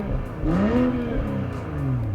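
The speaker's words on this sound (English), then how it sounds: "Starts up with a decent exhaust note." BMW M340i from the refreshed 3 Series, its exhaust note swelling as the engine revs and settles, a steady close rumble with rising and falling pitch sweeps.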